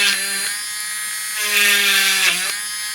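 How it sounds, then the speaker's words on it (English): A small high-pitched drill whirs close by in two long runs, boring a small hole through cured UV resin, its pitch dipping slightly under load before it stops. "just drill a little hole in here like that, all the way through all of them"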